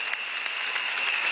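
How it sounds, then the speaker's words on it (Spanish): A crowd applauds graduating doctors, comprehensive community physicians and dentists, at a large graduation ceremony. The clapping is dense and steady, a continuous wash of many hands with no voices over it. "Si le brindamos un fuerte aplauso a esta promoción de médicas y médicos integrales"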